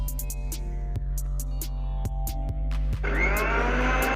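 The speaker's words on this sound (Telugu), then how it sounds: "ఇప్పుడు ఇవన్నీ కలిపి మిక్సీ పట్టేసుకుందాం" Mixer grinder whirring as it blends green mint chutney with yogurt and lemon juice, a steady motor drone with rhythmic clunks and a rougher, louder churning toward the end, no voices.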